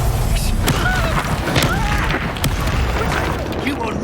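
An Incendio fire spell cast during a Hogwarts Legacy duel, a whooshing burst with booming impacts and crackling effects over game music, with a voice heard briefly.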